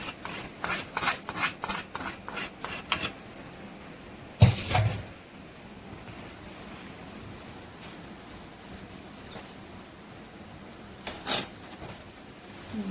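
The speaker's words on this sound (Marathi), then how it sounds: "आता हे मिक्स करून घेऊया" Vada pav filling being stirred and mixed with turmeric, a spoon scraping and rasping against the bowl in quick repeated strokes, with one louder clatter midway and occasional sharp taps after.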